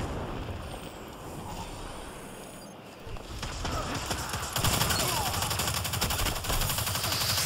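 Gunfire in the video game Destiny 2, rapid automatic shots over a windy backdrop, building from quieter distant bursts to louder, denser fire in the second half, with no talk.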